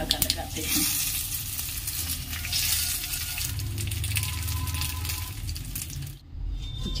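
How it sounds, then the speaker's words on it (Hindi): Hot tempering poured over cooked kulthi (horse gram) dal with brinjal, flame off, giving a loud steady sizzle and fry hiss for several seconds, with faint stirring clinks, dropping away sharply near the end. "अब गैस के फ्लेम को ऑफ कर देते हैं और दाल के ऊपर इसे हम गरम गरम तड़का लगाते हैं"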